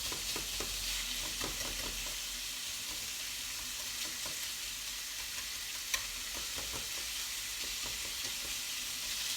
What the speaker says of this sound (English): I find a really good way of breaking the mince down is by using one of these, a whisk.